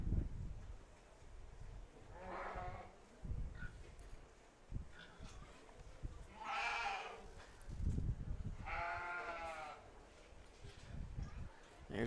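Dairy goats bleat repeatedly during a round robin showmanship event at the Las Animas County Fair, several loud wavering calls rising over arena crowd noise and background talk.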